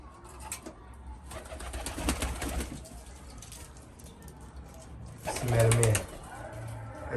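Pigeons coo in short low bursts near and far, with one louder close call near the end, while someone talks intermittently over outdoor background noise.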